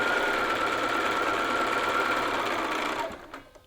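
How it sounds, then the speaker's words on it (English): A sewing machine stitches darts in fabric with a fast, steady mechanical whir that runs continuously and then winds down and stops near the end. "So we're just gonna stitch right off the fabric there"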